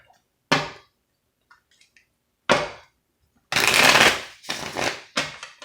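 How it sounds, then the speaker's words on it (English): Several bursts of tarot card shuffling, a short riffle followed by longer, louder riffles and a final quick one, close up with no talking. "Shuffle these real quick."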